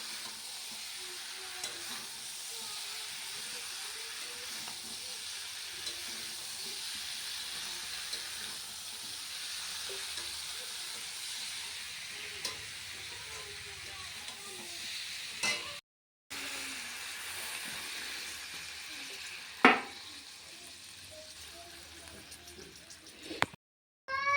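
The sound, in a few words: cauliflower and potato sautéing in spices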